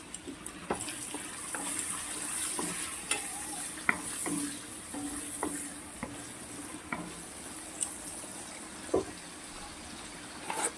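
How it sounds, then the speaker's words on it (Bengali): Tomato frying in a pan for pulao gives a steady, moderate sizzle, punctuated by scattered clinks and scrapes of stirring at irregular intervals, with no talk. "ভালো করে ভাজতে হবে একটা টমেটো দিয়ে দিচ্ছি"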